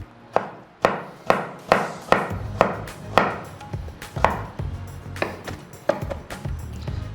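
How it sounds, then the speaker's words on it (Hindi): Vegetables for mutton chapli kebab being roughly chopped with a knife on a board, about a dozen loud, evenly spaced thuds close by with no talking. "आप रफ चॉप कीजिए"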